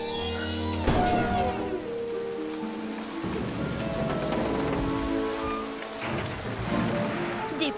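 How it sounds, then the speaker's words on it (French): A cartoon storm, with heavy rain pattering on a surface steadily throughout and a few deep thunder rumbles and cracks rising in the mix, loud and close, with no one talking. "Une tempête, oui."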